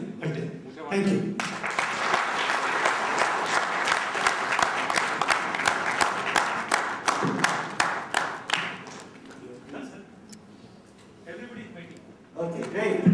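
An audience claps steadily for several seconds, a dense burst that thins out, with voices speaking at the start and end.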